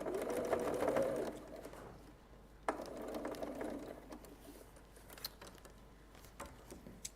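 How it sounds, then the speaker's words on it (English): A home sewing machine stitches quilt fabric pieces together, a fast rattling whir for about a second, then a second shorter burst after a pause, with quieter mechanical clicks and handling noise afterward. "Every now and again, when you're sewing, the sewing machine just goes"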